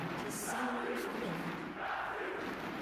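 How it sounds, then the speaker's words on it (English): A loud home crowd roars and cheers at an esports match, a dense sustained wall of voices with surging shouts running steadily throughout. "Crowd is loud, honestly. Going nuts right now."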